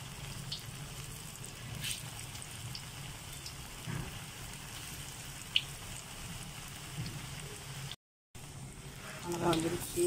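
Cucumber pakora batter sizzles and crackles steadily in hot oil, a soft continuous frying hiss with scattered pops, heard up close for the whole stretch.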